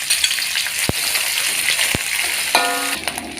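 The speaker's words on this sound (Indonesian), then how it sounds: "Pertama kita goreng dulu terinya saudara ya" Anchovies fry in a pan with a steady, close hiss of sizzling oil, broken by a couple of sharp utensil taps and a brief scrape near the end, with no voices.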